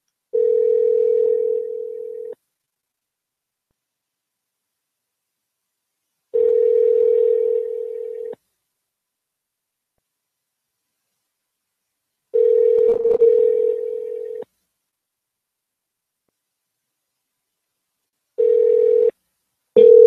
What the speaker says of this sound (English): Let's just dial it again and make sure.